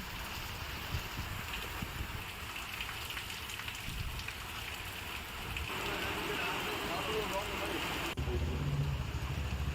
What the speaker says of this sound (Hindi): यहां तेज बरसात हुई, जनजीवन अस्त व्यस्त दिखा।